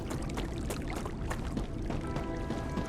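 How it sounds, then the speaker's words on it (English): Water running steadily in the StarRupture video game, a broad continuous wash with splashy pouring texture that stays even throughout, no voices over it. "I still hear running water"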